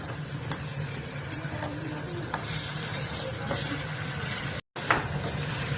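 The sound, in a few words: meat frying in oil with onions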